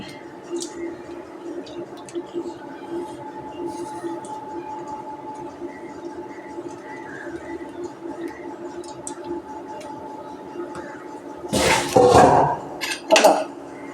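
Anchovies and sardines are tipped into a pot of boiling fish curry. After a long stretch of low kitchen hum, a few loud clattering, splashy knocks land close by near the end.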